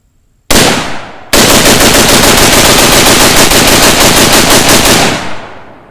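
AR-15 rifle firing outdoors, loud and close: one shot, a short pause, then a sustained rapid string of gunfire lasting several seconds before fading out.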